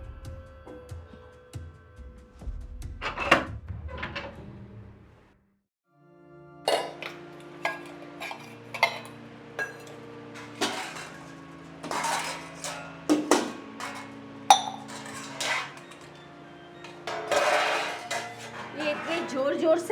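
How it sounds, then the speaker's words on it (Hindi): Pots, pans and dishes clatter and clink loudly in a home kitchen, a dense run of sharp metallic and ceramic knocks with a short pause near the start, close by, with occasional voices mixed in. "जोर जोर से कहाँ बर्तन आवाज हो रही है?"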